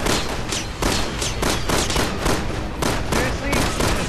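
Rapid bursts of gunfire in Resident Evil 6, aimed at gas canisters, sounding loud and close as sustained volleys broken by short pauses.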